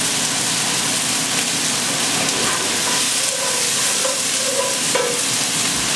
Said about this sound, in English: And the shallots. And these are going to cook for a second now until they're translucent.